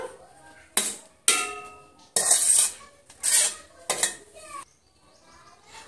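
A metal spoon presses down layers of rice in a pot of egg biryani, giving several close, distinct clanks and scrapes against the pot, separated by short pauses.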